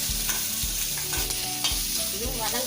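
Roughly cut onions sautéing in a pan, giving a steady sizzle with repeated stirring scrapes under background music.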